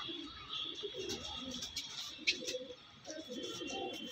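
Pet pigeon kept indoors, an Andra pigeon, gives soft low cooing in short repeated phrases close by, with a brief sharper chirp midway and a steady background hiss.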